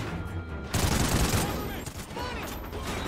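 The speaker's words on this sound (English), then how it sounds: "Noisy gun." Dense, continuous gunfire from a loud weapon in the Call of Duty Ghosts campaign, a heavy sustained fusillade beginning abruptly after a brief lull and rolling on with bursts beneath game noise.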